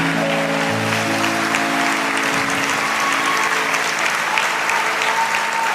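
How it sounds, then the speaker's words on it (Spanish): Church congregation applauding at a year-end service, a steady wash of many hands clapping for several seconds while sustained organ or keyboard tones hold underneath. "Dale fuerte ese aplauso a Jesús."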